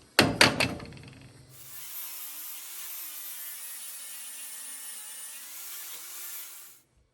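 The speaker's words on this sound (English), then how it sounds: "I'm going to try this wheel. I don't know if it's going to be aggressive enough, but we'll just try to put a little bevel on there" A few sharp knocks come first, then a grinding wheel runs against a steel truck receiver tab to bevel it, giving a steady, fairly quiet whine with a slight wavering pitch for about five seconds before stopping.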